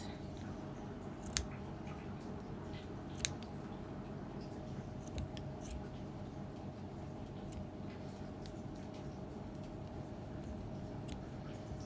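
Scissors trim crochet yarn on a handmade bag, giving two sharp, quiet snips a couple of seconds apart over a steady low room hum.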